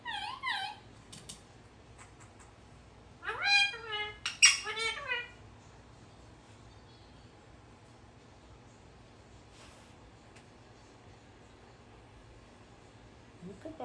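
A pet rescue parrot whistles and sings in the background, with a short chirpy phrase at the start and a louder burst of rising, warbling whistles a few seconds later over a quiet room.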